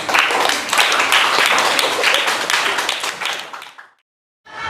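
Children in a classroom clap together for a few seconds, a dense, loud burst that fades and stops, then briefly starts again at the very end.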